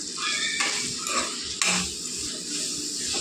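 Salt and turmeric being stirred into a tomato egg curry, with a utensil clinking and scraping against the pot in irregular strokes over a soft background sizzle.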